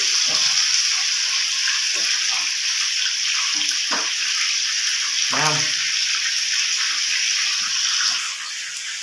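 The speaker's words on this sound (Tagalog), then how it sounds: "Ginisa tapos prito." Meat sautéing and frying in a home pan gives a loud, continuous hiss and sizzle that runs the whole time, with scattered clatters of utensils and someone speaking briefly now and then.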